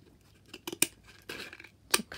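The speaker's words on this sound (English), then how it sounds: "So I'm going to use my scissors" Scissors cut a cardboard box in half along a drawn line, a few crisp separate snips and crunches at close range, quiet and without talk.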